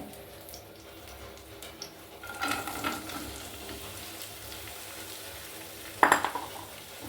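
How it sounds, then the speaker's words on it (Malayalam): Chopped onion and curry leaves dropped into hot oil, a soft steady sizzle that swells when they go in, followed later by a sharp clink of a utensil against the pan. "എണ്ണ ചൂടാകുമ്പോൾ അതിലേക്ക് ഇടാനായിട്ട് നമുക്ക് സവാള അരിഞ്ഞ് വെച്ചതുണ്ട്, വേപ്പിലയും കൂടി ഞാൻ അതിൻ്റെ ഒപ്പം ഇടുവാണ്"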